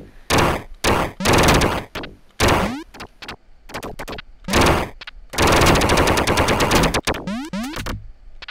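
Rapid bursts of gunfire from the video game Duck Game, loud and close, with several clustered volleys and rattling sprays separated by short gaps, alone without talk.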